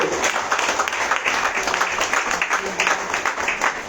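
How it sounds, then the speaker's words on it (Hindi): Audience applause for the junior solo song competition winner at a Sunday worship service gathering, a steady wash of many hands clapping that holds throughout, with a voice speaking over it. "Again round of applause for Chetna कुल्हारे।"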